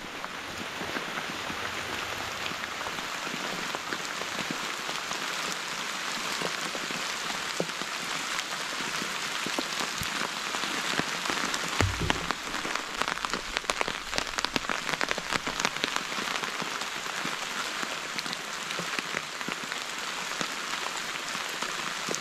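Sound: rain falling on a Teton Sports Mountain Ultra 1 tent

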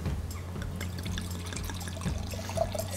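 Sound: wine being poured into a glass

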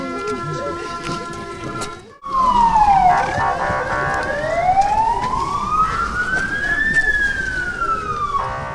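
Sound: fire engine sirens

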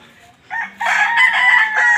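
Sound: roosters crowing and chickens clucking

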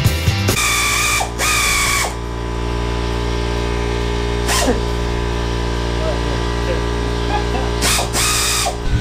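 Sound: ratchet tightening spring compressors on a car strut

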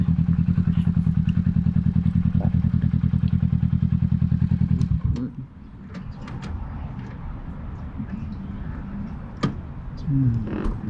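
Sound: Kawasaki Ninja 650 2020 motorcycle engine while riding

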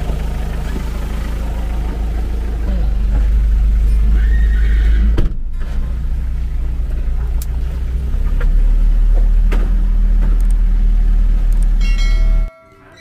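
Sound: Cremello horse whinnying

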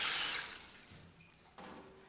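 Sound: water from a tap poured into jugs for fish batter

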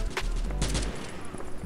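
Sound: gunfire in video game Modern Strike Online

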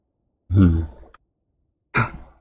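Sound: yawning

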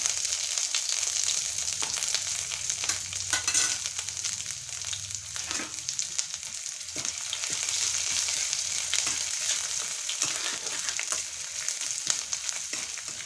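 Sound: ginger paste, garlic paste and bay leaves frying in oil

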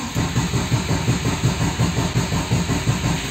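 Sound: engine starting and idling after clutch cable repair

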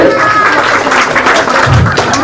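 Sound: loud cheering and applause honouring the guru

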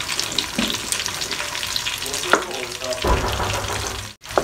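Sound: stirring moru curry in a pan on low heat

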